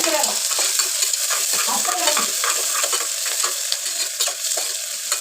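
Onions sautéing in a pan for Chettinad mutton gravy, with a continuous bright sizzle and occasional scraping stirs of a spoon against the pan, close and steady with no talking.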